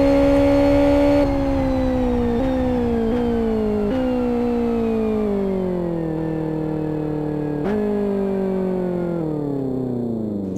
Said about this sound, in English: There comes the final car onto the start-finish line.